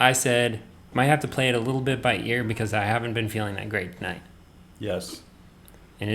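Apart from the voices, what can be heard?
None of the usual background noises is heard.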